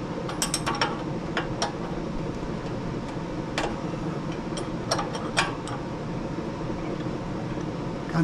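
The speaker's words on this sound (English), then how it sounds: "Grab your 211 6/8 wrenches. Hold the one in the back and tighten the one in the front." Two wrenches tightening a nut during annual service on a Husqvarna Z248F zero-turn mower with a Kawasaki FR651V engine, with close metallic clicks and ratcheting clinks over a steady background hum, no talking.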